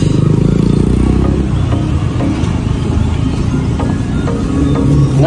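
A motorcycle ridden along a road in Davao, a loud, rough engine rumble that swells at the start and then runs on steadily, with some clattering and wind noise.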